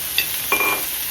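Thecha chili paste hits hot oil on a low gas flame, giving a brief sizzle and a stir or two over a steady hiss, close and moderately loud.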